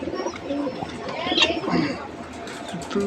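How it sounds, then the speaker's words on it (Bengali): Pigeons cooing in low, murmuring tones close by inside a pigeon coop with chicks, with faint chatter and rustling mixed in. "কবুতরও আছে, কবুতরের বাচ্চা আছে"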